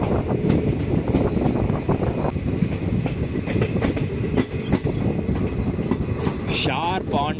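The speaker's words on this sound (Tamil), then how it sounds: "இப்போ நம்ம ட்ரெயின் போய் பிளாட்ஃபார்மில் நின்று ரிவர்சல் எடுத்து திருப்பி இதே லைனில் தான் யஷ்வந்த்பூர் போகும்." A passenger train rolls along rails on the line toward Yesvantpur, with a steady loud rumble, rhythmic wheel clatter and wind buffeting throughout and a brief high squeal near the end.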